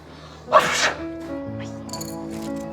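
A single close sneeze bursts out suddenly, followed by quiet background hum and a faint voice.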